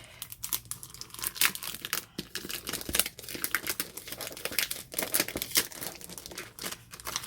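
Crinkly plastic packaging around scrapbook cards is torn and opened by hand close up, giving a dense run of sharp crackling and crumpling bursts with no talk.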